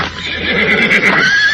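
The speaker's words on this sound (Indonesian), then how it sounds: "Oh, ia terjatuh. Kudanya terjungkah." A horse that has just fallen lets out one loud, close, quavering whinny lasting over a second, shrill and wavering throughout.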